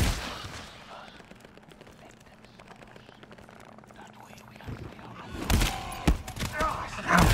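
Gunfire in the co-op shooter GTFO, a quiet stretch of faint shots under sparse talk that erupts near the end into a loud, close burst of rapid shots.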